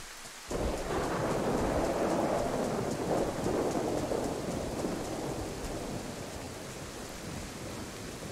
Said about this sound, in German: ich laufe unterm Regen durch